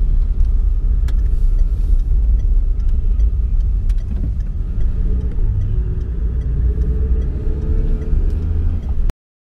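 A car drives on a sunny Sunday morning on Oranienburger Straße in snowy weather, a steady low engine and road rumble heard from inside, continuous and fairly loud until it cuts off abruptly.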